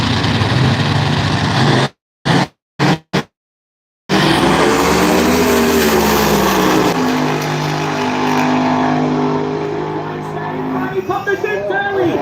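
Drag racing cars in a 7-second bracket race: a loud engine roar breaks off in short gaps, then rising and falling revs sweep past, with an excited commentator talking over it.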